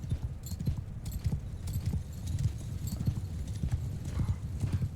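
Horse hooves clip-clop steadily in Mount & Blade II Bannerlord, a dense, continuous patter of many hoofbeats at moderate distance, with a faint whinny mixed in.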